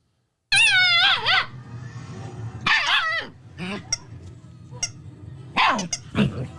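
A feisty small dog barks and yips in several sharp bursts with whining pitch sweeps, played back from a recording, close and loud with short gaps between outbursts.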